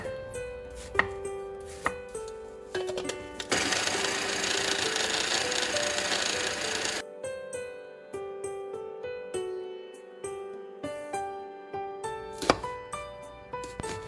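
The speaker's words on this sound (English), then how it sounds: "I'm going to use a blender to mix the pear into a puree." A blender whirs loudly for a few seconds, pureeing an Asian pear, between bursts of rhythmic knife chopping on a board, all close up and without talk.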